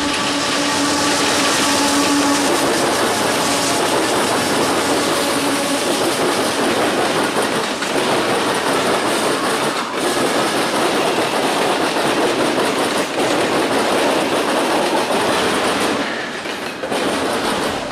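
A freight train trailing leased BNSF and ex-Southern Pacific switcher locomotives rolls past nearby in Ohio, a loud, steady roar of wheels and rattling cars with rhythmic clickety-clack over the rail joints throughout.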